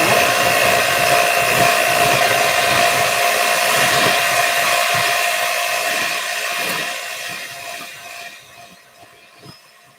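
An electric mixer creams butter and white sugar for apple fritter bread, giving a loud, steady whirring drone for most of the clip that fades toward the end, with no talking.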